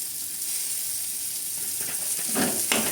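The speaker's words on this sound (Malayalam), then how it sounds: "ഞാൻ വെളുത്തുള്ളിയും ചെറിയ ഉള്ളിയും പച്ചമുളകും ആ എണ്ണയിലോട്ട് തന്നെ ആ ചട്ടിയിലേക്ക് തന്നെ ഇട്ടേക്കട്ടെ" Shallots, garlic and green chillies hit hot oil in a pan with a bright, continuous sizzle that swells briefly near the end. Nobody speaks.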